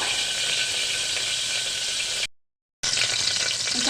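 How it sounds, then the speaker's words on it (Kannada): Bay leaves and cardamom sizzle in hot oil in a pan with a steady, close, hissing fry. The sizzle is briefly cut to silence, then resumes just as strongly. "ಸ್ವಲ್ಪ ಎಣ್ಣೆ ಕಾದ್ಮೇಲೆ ಒಂದೆರಡು ಪಲಾವ್ ಎಲೆ ಮತ್ತು ಏಲಕ್ಕಿ ಹಾಕ್ತಾಯಿದ್ದೀನಿ"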